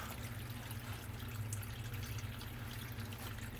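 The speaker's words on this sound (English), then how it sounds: "Waterfall is going." A small waterfall trickling into a basin inside a bearded dragon enclosure, a faint steady water trickle with a low hum beneath it, continuous and quiet, no voices.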